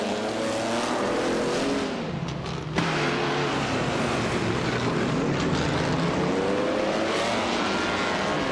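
Racing cars in a racing video game roar continuously, engine tones sweeping up and down as several cars pass close together in a loud, dense pack.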